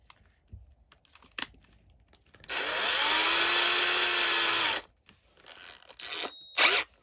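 A power drill whines steadily for about two seconds as it bores into a part on a 2014 Mustang GT 5.0 during a custom build, set between short clicks, taps and quiet handling noises close by.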